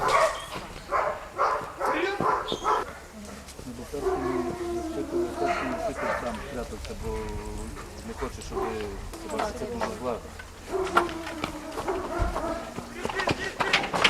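Police dogs bark at a training competition where handlers show general obedience and run an obstacle course; sharp barks come in bursts under steady talk, with busy outdoor background noise.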